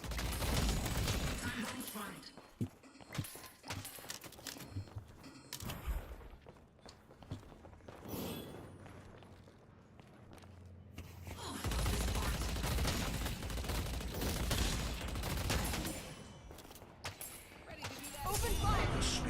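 Rapid bursts of gunfire from the video game Deadlock, loud and dense, in clustered volleys with a quieter lull midway and heavy shooting resuming toward the end, with talk over parts of the clip.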